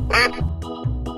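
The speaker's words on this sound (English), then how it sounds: "Duck." A cartoonish duck quacks three times in quick succession, loud and close, in a short animated animal sound clip.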